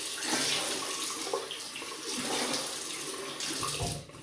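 Water runs from a tap while a double-edge safety razor is rinsed, a loud, steady splashing rush that is close and unbroken, with slight changes in flow as the blade passes under it.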